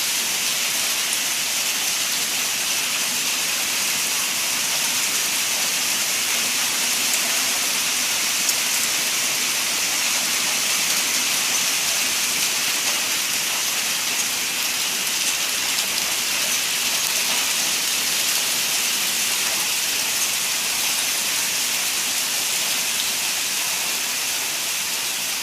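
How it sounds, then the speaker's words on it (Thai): Hail storm in Leiria, Portugal, pouring down as a dense, constant roar of hissing impacts, loud and unbroken throughout with no voices. "มาดูพายุลูกเห็บกันนะคะ"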